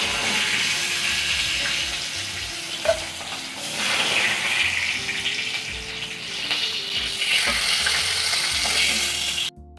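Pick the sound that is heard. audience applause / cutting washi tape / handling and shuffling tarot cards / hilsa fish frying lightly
hilsa fish frying lightly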